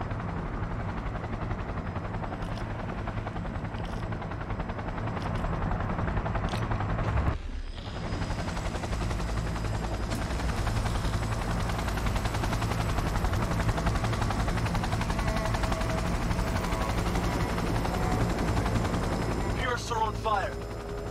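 A helicopter in Cyberpunk 2077 drones steadily at close range throughout, with a brief dip near the middle, while gunfire-like crackles and game effects sit on top of the rotor noise.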